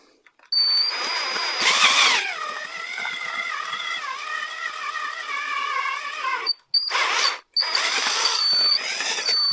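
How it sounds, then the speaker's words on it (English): Whining power drill bores out a hole in bursts, with a steady high pitched motor hum that stops and restarts in short pulses near the end. "You just need to drill it out enough."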